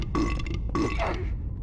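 A character in Silent Hill 4: The Room lets out two quick, raspy, guttural burps, the second longer and trailing into a groan, loud and close over a low rumbling game background.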